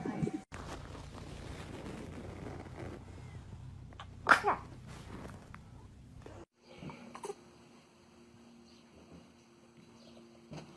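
A baby gives one sharp, sudden sneeze midway through, close and fairly loud against a quiet indoor room with faint background noise.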